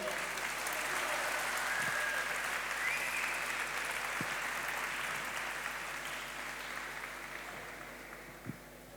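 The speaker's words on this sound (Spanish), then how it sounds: "vamos a darle un aplauso a los voluntarios" An audience at a talk in Los Realejos gives volunteers a sustained round of applause, dense steady clapping that slowly tapers off over several seconds.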